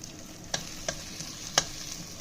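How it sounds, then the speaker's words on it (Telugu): Sorrel leaves with garlic frying in a steel pan, a soft continuous sizzle broken by a few sharp stirring scrapes, close and without talk. "ఇలా కొంచెం ఒక 5 మినిట్స్ వేగనిద్దాం"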